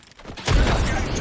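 Frag grenade blast in a first-person shooter match, a sudden loud boom that rumbles on for most of a second, preceded by faint voices.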